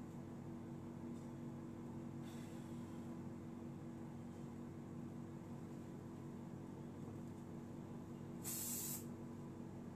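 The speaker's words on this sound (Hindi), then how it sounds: "hard spray," Hard-hold hairspray hisses briefly onto a finished pony-style bridal hairstyle, one short close burst near the end after a faint earlier puff, over quiet room hum.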